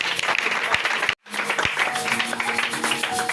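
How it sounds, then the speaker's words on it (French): A church congregation claps loudly and continuously, a dense burst of applause that breaks off for a moment and then resumes. "On acclame très fort pour Jésus-Christ."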